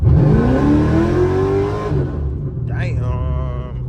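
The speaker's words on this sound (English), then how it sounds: "Do a spin in third gear." Pontiac G8 engine revs hard in third gear, rising loud and near before dropping off, as the tires squeal briefly; excited voices talk over it.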